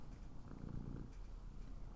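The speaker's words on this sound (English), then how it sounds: "You can hear him purring." A cat purrs steadily and softly up close, a continuous low rumbling drone with no voices over it.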